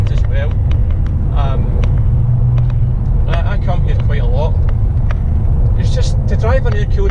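Air-cooled Porsche 911 on a road with hairpins and sweeping bends, its engine rumbling loud and steady as the revs climb, with someone talking over the drone.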